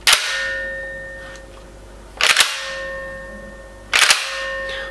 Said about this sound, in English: That ringing noise that you can hear